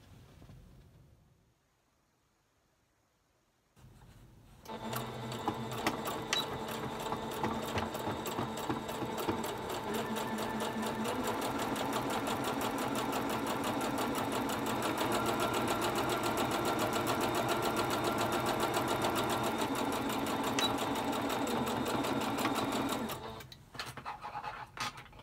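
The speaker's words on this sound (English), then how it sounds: "I'm just gonna top stitch with seam allowance 1/8 of an inch, like a line here and another line along the bottom." Sewing machine top stitching a fabric face mask, running steadily at close range for about twenty seconds after a brief quiet start, with a rapid even needle rhythm.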